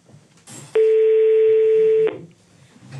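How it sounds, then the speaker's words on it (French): A single steady telephone tone sounds loud and clean for about a second and a half, set against a quiet studio background. "Ah, au téléphone."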